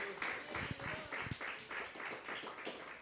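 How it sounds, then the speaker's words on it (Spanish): A church congregation gives loud clapping in praise of the King of Kings, a steady, fairly quiet wash of many hands that comes in rhythmic waves, with a faint voice underneath. "Pidan de fuertes palmas al Rey de Reyes y al Señor de Señores"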